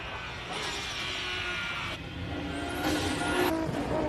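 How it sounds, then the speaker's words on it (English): R32 race car climbing the hill at the Simola Hill Climb King of the Hill, its engine a steady loud drone that rises and swells near the end as it accelerates past. "the R32. Makes a wonderful noise"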